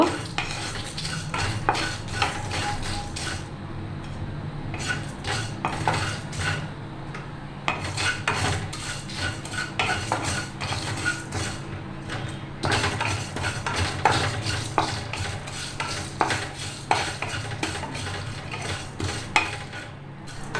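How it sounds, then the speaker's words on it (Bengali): A spice mix for raw mango pickle is stirred and dry-fried in a wok, giving a steady soft sizzle with frequent scraping and clinking of a spatula against metal, close and continuous, with no talking. "মশলাটা ভাজা হয়ে গেছে, এবার নামিয়ে দেব"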